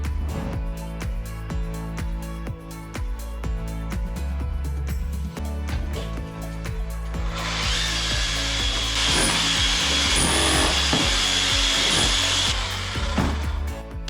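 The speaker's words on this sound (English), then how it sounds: "Here you can see Lee drilling and then chiselling out slots ready for a strong boy to go in." Drilling and chiselling into a kitchen ceiling to cut slots for a steel beam during a house renovation: steady rhythmic mechanical grinding and repeated sharp knocks, louder and harsher in the second half, with no talk.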